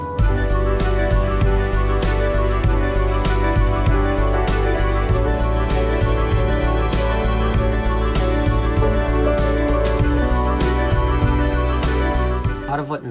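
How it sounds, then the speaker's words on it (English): The climax of an arranged version of a song plays loud and dense, full ensemble with steady percussive hits driving throughout, sustained without pause for about thirteen seconds, no speech over it. "This is my favorite part of the song, is the climax"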